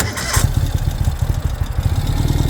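A 2020 Ural Gear Up Sahara motorcycle engine cranks and catches, then settles into a rapid, throbbing, chugging rumble up close.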